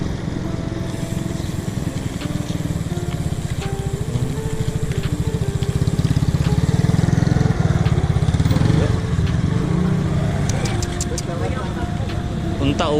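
Motorcycle taxi engine running steadily close by, a mid-pitched putter that swells briefly mid-ride, with people talking over it.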